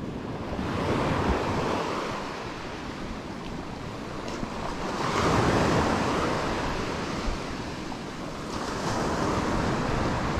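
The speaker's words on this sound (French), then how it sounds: "Je vous montre la petite plage qu'on a ici." Waves wash onto a small beach at Mronabéja village, bordered by mangroves, with a continuous rushing surf that swells and recedes in slow surges, along with heavy wind buffeting the microphone and no talking.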